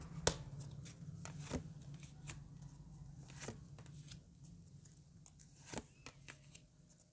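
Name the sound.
tarot cards being shuffled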